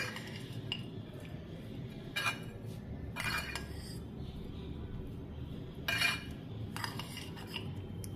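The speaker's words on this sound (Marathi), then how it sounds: "पचडी कालवून झालेली आहे" A spoon mixes shredded cabbage pachadi in a bowl, giving a few distinct metallic scrapes and clinks against the dish at irregular intervals over a low steady background hum.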